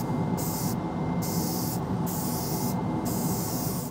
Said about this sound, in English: And then I'm gonna go and spray it with some crystal clear spray paint.